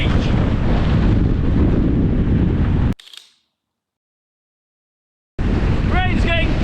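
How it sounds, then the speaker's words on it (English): Strong wind on a North Wales beach drives rain hard, a loud roaring buffet across the microphone that cuts out abruptly into silence before the gusting roar returns. "Rain's getting blown so hard it's hurting my face."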